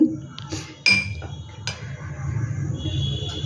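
A spoon clinks and scrapes against a bowl while gram flour and rice flour are mixed together, with a few sharp knocks followed by softer, steady stirring close by.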